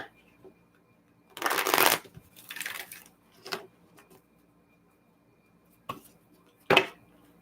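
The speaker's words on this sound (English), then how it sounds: "Shuffle one more card here." Tarot cards shuffled in a few quick bursts, one long riffle followed by shorter flicks and taps, close by in a quiet room.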